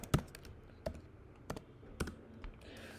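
Scattered keystrokes on a computer keyboard while code is typed, sharp separate clicks arriving in small irregular clusters, close and clear with no talking.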